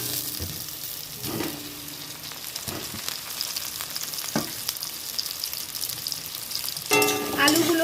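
Potato pieces sizzle and fry in hot oil in a home kitchen, a steady bright crackle with a few soft stirring knocks, rising to louder spattering toward the end.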